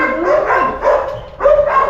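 Dogs bark near a kitchen cabinet job site in San Sebastian, Tarlac City, three loud barks in quick succession with no talk over them.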